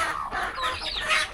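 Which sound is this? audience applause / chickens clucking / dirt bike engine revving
chickens clucking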